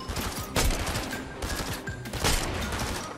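Rapid gunfire from a DMR in the video game Fortnite, heard as a few bursts of sharp shots, moderately loud against a busy game soundscape.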